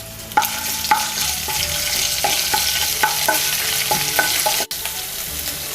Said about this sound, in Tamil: இப்போ நான் ஒரு 2 டேபிள் ஸ்பூன் ஆயில் ஹீட் பண்ணி வச்சுருக்கேன். இப்போ இதில் ஒரு சின்ன துண்டு இஞ்சி பொடியாக நறுக்கினது ஆட் பண்ணிக்கோங்க.